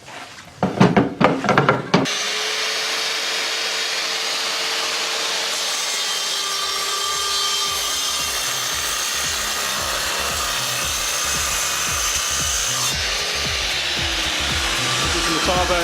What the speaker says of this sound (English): Let's cut some oak.